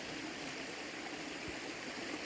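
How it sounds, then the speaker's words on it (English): A mountain stream flows beside a backcountry campsite, a steady broadband rush of water that fills the whole clip with no pauses. "it's nice being able to hear the water flow like that"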